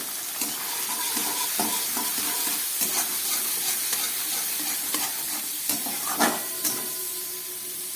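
Spice masala sautéing in a pan with dried red chilli powder, ahead of boiled taro stems: a steady hissing sizzle broken by repeated scraping and tapping strokes of a spatula, with no talking.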